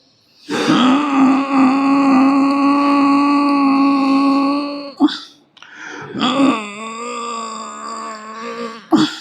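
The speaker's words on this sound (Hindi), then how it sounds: "उज्जाई, छोटे बच्चे की तरह खर्राटे, गला से सांस लेंगे।" Ujjayi yoga breathing through the throat: long, drawn-out throaty breaths with a rasping, snore-like hum, one sustained exhale followed by another after a brief catch, close and loud.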